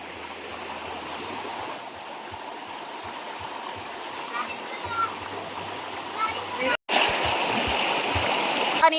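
A clear river flows and splashes steadily while a family bathes in it, a continuous close rush of water with people talking over it throughout.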